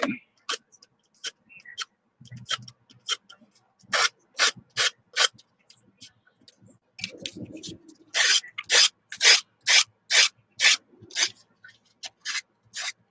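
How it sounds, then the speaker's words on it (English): A nail file rasps back and forth along the edges of a wooden cross in quick repeated strokes, close and crisp, starting sparse and becoming a steady rhythmic scraping. "I really find the nail filers work really good for everything I need them for"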